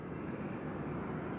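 An Alaska Airlines jet at Nashville International Airport gives off a steady, broad engine roar at night, continuous and fairly loud across the short stretch with no speech.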